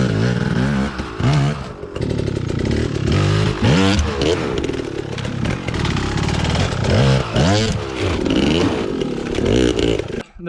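A dirt motorbike revs hard in loud repeated throttle blips while hopping its rear tire up onto a log, the engine roaring and dropping between bursts, close up, with occasional scraping and clatter.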